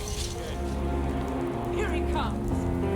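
Steady rain falls at night in the video game Skyrim, a dense, even hiss that fills the scene, with a voice speaking briefly over it.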